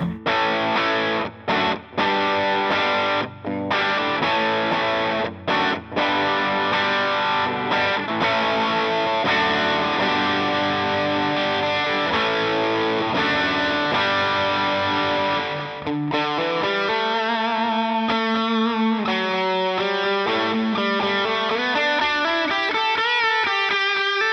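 A heavily overdriven electric guitar, run through an HX Stomp amp model with spring reverb at full drive, plays a continuous riff with thick, saturated distortion, moving to sustained bending notes toward the end.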